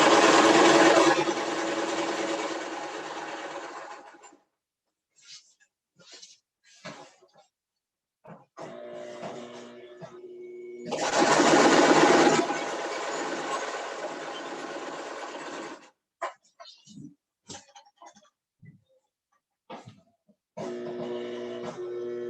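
A sewing machine runs a straight stitch through fabric in two sustained bursts of fast, steady whirring. Quiet handling noises and brief clicks fall between the runs, and a third run begins near the end.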